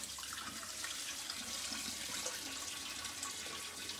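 Water from washed rice drains steadily in a kitchen, a continuous hissing, splashing rush heard up close without any talk.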